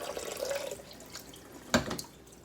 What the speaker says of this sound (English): I'm going to put a little more water in them to see if they can grow any bigger